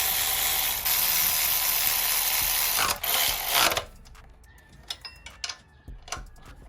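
A socket wrench with a long 14 mm socket tightening nuts on a car's accessory drive bracket; loud rapid ratcheting fills the first few seconds, then gives way to scattered metallic clicks and taps nearby.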